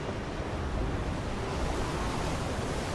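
Ocean waves splashing in the Star Wars Battlefront 2 video game, a faint, steady wash of surf noise with no voices over it.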